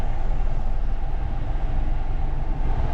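A train pulled by two engines passes close by with a loud, continuous rumble and rattle of wagons that stays constant throughout. No one speaks.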